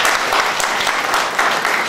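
Warm audience applause at a regional convention of Padre Pio prayer groups in Rionero, a loud, dense wash of many hands clapping continuously, heard up close.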